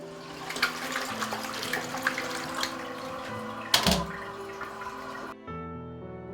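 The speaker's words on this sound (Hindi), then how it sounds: "एक बार फिर फ्लश करें।" A toilet flush rushes and gurgles through a home bathroom during cleaning, with a sharp burst near the middle before the water refills more quietly with a steady tone.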